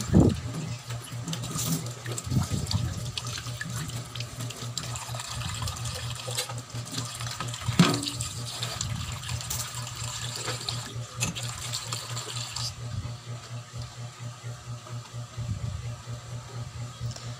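Tap water runs steadily while washed dishes are rinsed at a kitchen sink, a continuous rushing stream with a low hum beneath it and occasional clinks, easing slightly toward the end.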